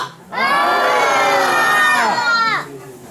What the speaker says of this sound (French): Au bout de 3, on va crier très très fort.